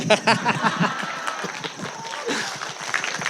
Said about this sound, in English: Please give it up, a louder round of applause for Tamuka Brian Kagoro.